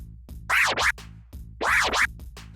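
Two reverse slice scratches on a turntable, each a sharp, bright record sweep cut in and out by the crossfader, separated by a short pause over a faint low backing loop.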